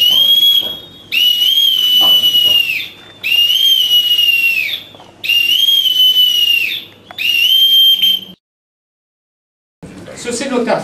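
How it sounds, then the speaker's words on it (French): A shrill high boatswain's pipe whistle sounds in four long held blasts with brief gaps, loud and close, at an outdoor naval memorial ceremony, then stops before a short burst of noise. "par le sifflet du gabier."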